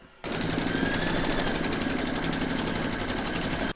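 An embroidery machine stitches in the hoop with a rapid, steady mechanical chatter that starts abruptly, holds evenly for a few seconds and stops suddenly.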